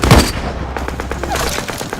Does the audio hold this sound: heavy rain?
no